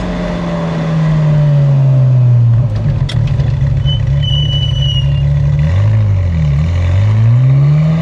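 A Ferrari F355 Challenge clone on an urban street, its engine droning steadily as the car drives, then revving up and down in a few quick swells near the end, loud and close with no talk.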